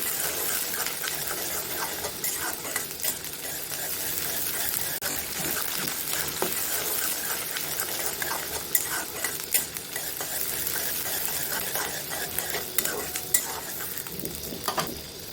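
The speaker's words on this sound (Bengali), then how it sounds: "রসুন দিব, আদা বাটা দিব, জিরা বাটা দিব, দিয়ে এগুলো একটু ভেজে নেব" Garlic, ginger paste and cumin paste frying in a pan for an egg curry, a steady close sizzle with frequent scraping and stirring clatter of a spoon against the pan.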